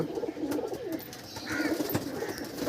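Pakistani teddy pigeons in a loft give low rolling coos, a few overlapping calls close by, with faint chirps and light background noise.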